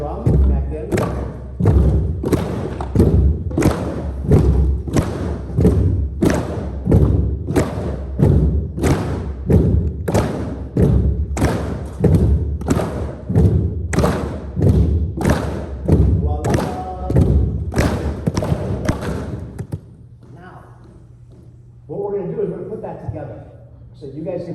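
Drums struck together in a Hawaiian hula pa rhythm at a Huna session in Kamuela, Hawaii, steady repeated thuds from a group for about twenty seconds, then the drumming stops and a voice speaks.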